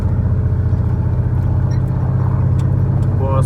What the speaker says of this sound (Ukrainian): все, виїхали, їдемо вже по асфальті